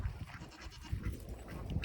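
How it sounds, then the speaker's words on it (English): Goats in a pen on a Texas half-acre homestead bleat repeatedly, fairly faint and somewhat distant, with several overlapping calls over rustling outdoor background. "These are our goats."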